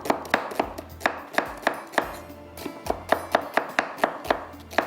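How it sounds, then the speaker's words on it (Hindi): A knife chops an onion on a board in brisk, evenly spaced strokes, about four per second, close and crisp with no talking. "प्याज को हम कटिंग करते हैं जब तक ऑयल गर्म होता है"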